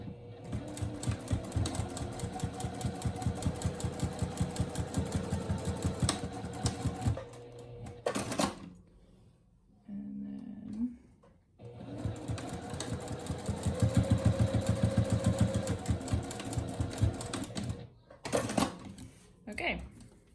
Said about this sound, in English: So then I'm just going to stitch along that seam.